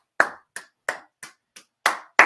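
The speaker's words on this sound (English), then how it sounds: "let's just clap for all of our sponsors" Sparse, separate hand claps from a small crowd at a paddle party honoring sponsors, seven sharp claps spaced out at a slow uneven pace, near and distinct with no talking.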